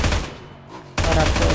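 Gunfire from PUBG New State during an aim drill at moving targets: loud, dense bursts of shots open the clip, break off briefly, then resume in a sustained rapid volley at close range.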